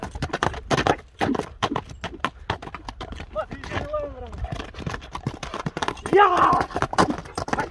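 Horse hooves clip-clop in a steady, fairly close walking rhythm, with a brief neigh or whinny partway through and people talking over it.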